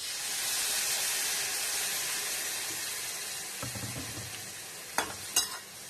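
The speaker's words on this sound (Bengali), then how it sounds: "করলাটা কিন্তু খুব সুন্দর ভাজা হয়ে গেছে মশলার সাথে।" Bitter gourd frying with spices in a pan, a steady close sizzling hiss throughout, with a few clinks of a utensil stirring near the end.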